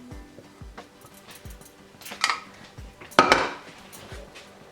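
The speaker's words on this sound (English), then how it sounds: "we have to start stirring it immediately, and we will cook this milk with the rice till it thickens a bit" Milk and rice stirred in a metal pan, a quiet series of spoon taps and scrapes with two louder clattering scrapes near the end, no talk.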